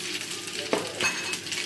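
Pasta mixture with white cheese poured into hot oil in a frying pan, giving a steady close sizzle with a brief clink of a utensil partway through.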